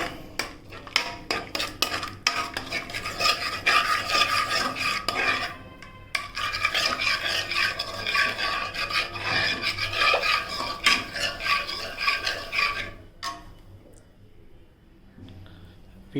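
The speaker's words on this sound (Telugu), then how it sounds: "మసాలాలన్నీ వేసేసిన తర్వాత సో నీట్గా కలుపుకోవాలి" A spoon scrapes and clinks in a pot or bowl as spices are stirred into a prawn biryani marinade, giving irregular close scraping and rubbing bursts with short pauses.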